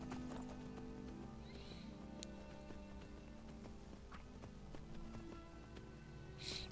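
A horse in the Skyrim video game walks with a steady clip-clop of hooves and gives an occasional whinny, close and clear over a quiet game ambience, with no talk.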